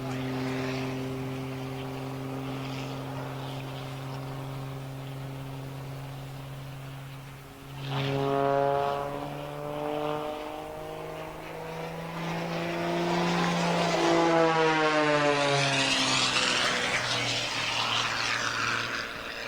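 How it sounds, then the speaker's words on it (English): A propeller-driven aerobatic model aircraft at an Easter model flying event hums steadily overhead, its engine pitch rising and shifting as it banks into knife-edge flight and climbs vertically, while an announcer talks over it. "he's going to put the aircraft into what we call knife edge flight, and using no other control inputs bar the rudder, he's going to climb the aircraft to the vertical position"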